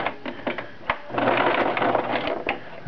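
A Brother LX-3125 sewing machine stitches a dart, a close mechanical whir of rapid needle strokes running in a short burst between lighter clicks and handling sounds.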